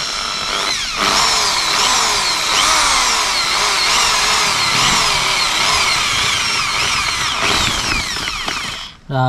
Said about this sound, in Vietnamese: Chúng ta sẽ bắt đầu khoan một lỗ.